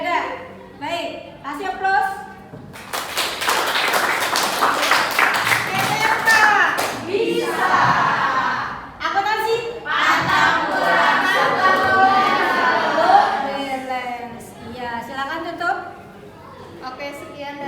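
Audience applause in a classroom group presentation, a dense burst of hand clapping from about three seconds that swells and carries on with chatter and voices mixed in, then thins out as talking resumes.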